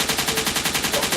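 A rapid gunfire sound effect in a rap song, a fast, even burst of repeated shots like a machine gun, loud and continuous across about a second.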